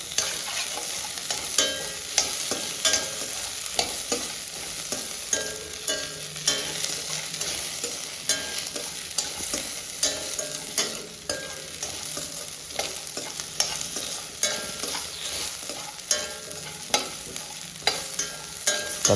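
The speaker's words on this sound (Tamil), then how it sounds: "தக்காளி வெங்காயம் ரெண்டுமே மீதி பாதி அளவுக்கு வதங்கி வர அளவுக்கு நம்ம வதக்கி விடலாம்." Onion and tomato sautéing in a pan for guava chutney, a steady broadband sizzle with frequent scraping stirs of a spoon throughout, close and fairly loud, no voices.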